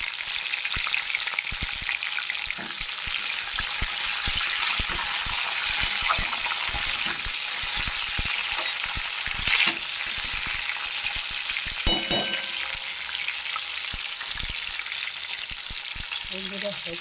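Cauliflower pieces frying in a pan with potatoes, a bright, constant sizzle with crackling spatters and occasional stirring clatter, close and steady throughout.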